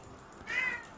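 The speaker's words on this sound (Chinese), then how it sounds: "你家猫叫了呀" A Ragdoll cat gives a single short, faint meow indoors, rising briefly over quiet background.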